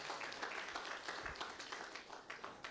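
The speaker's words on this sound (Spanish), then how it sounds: "Denle un aplauso a Dios." A church congregation claps in praise, a steady, fairly faint wash of applause without talk over it.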